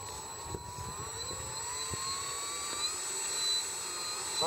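Biplane engine taxiing out on a mown grass airstrip, a steady droning roar with shifting whine, held fairly loud and continuous throughout with no talk.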